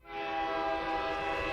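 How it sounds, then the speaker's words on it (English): Loud, sustained blare of a train horn from the video game Girls' Frontline 2 as a train arrives at a station, a single rich chord holding steady throughout with a faint low rumble beneath. "the urgent blare of a train horn as it thunders into the station"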